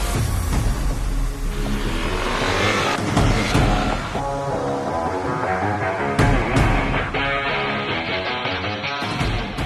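A Yamaha Aerox 155 scooter accelerates at full throttle, its engine note climbing loudly through repeated rising revs with gear changes, close and continuous with no talk over it.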